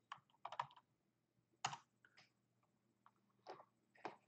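Scattered keystrokes tap on a computer keyboard as an address is typed, a few quick clusters of clicks separated by pauses, close but quiet.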